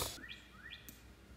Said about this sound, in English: just another bird in our chimney